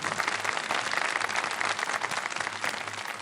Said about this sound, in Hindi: इस बात पे तालियां ज़रूर होनी चाहिए